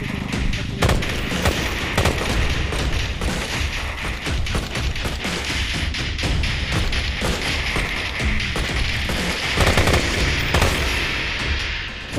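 Dense, continuous gunfire and thumping impacts from the zombie shooter game Left to Survive, with rapid shots and booms packed throughout at a steady loud level.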